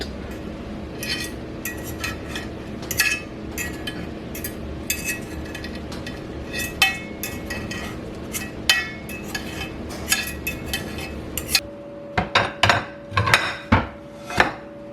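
A pan of freshly baked cornbread gets knocked and rapped to free the loaf, with a run of metallic clanks and knocks that grows into louder, separate bangs toward the end over a steady background hum.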